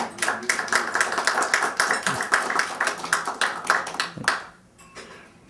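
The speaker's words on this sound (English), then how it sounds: "So a round of applause for Susan Gittleson." Applause from a lecture audience for Susan Gittleson at an international relations event, a thinning round of clapping with distinct individual claps that tapers off and fades near the end.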